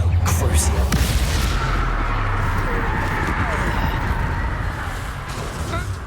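Explosive spell blasts from Bombarda and Confringo in Hogwarts Legacy, a loud booming impact at the start that rolls into a long, rumbling roar and slowly fades.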